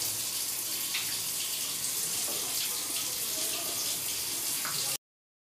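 Tap water runs steadily into a kitchen sink while a child washes her hands, a continuous close splashing stream with faint clinks, before cutting off abruptly near the end.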